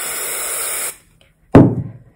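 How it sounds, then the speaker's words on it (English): A spray bottle mists water onto coffee filters for a craft project: a near, loud, continuous hiss that stops, then after a short silence a single sharp burst of spray that fades quickly. "So spray them out"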